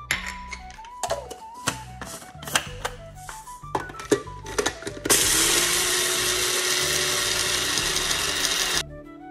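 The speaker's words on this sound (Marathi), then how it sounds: "आता ही मोहरी मिक्सरमध्ये बारीक करून घेऊया।" A kitchen mixer grinder for mustard seeds: several seconds of clicking and ratcheting as the jar is set in place, then a loud, steady motor whir grinding for about four seconds before stopping abruptly.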